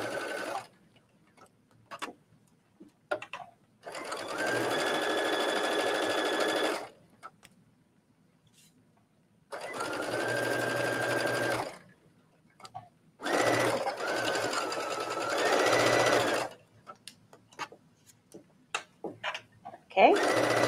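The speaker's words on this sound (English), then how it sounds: "So for now, I'm just sewing it together." A sewing machine stitches T-shirt fabric pieces together in three long whirring runs of about three seconds each, separated by pauses with light clicks and handling, close up with occasional speech in between.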